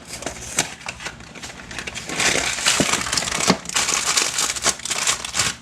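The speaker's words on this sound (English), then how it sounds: "just open up the cake mix here." Crinkling and crushing of a cake mix package being torn and opened in a kitchen, close and loud, with irregular sharp crackles and rustles building through the middle and continuing to the end.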